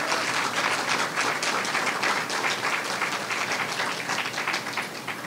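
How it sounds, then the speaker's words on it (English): Steady, dense audience applause fills a hospital renaming ceremony honoring Ruth Bader Ginsburg at Coney Island Hospital, sustained and fairly close throughout with no voices over it. "Let's give the entire team at Coney Island Hospital a round of applause."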